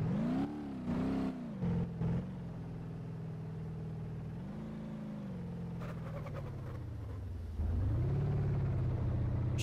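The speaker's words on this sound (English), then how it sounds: "The engine sounds are broken." A car engine in BeamNG.drive hums and drones, its pitch rising and falling as it revs and shifts, with brief louder bursts early on.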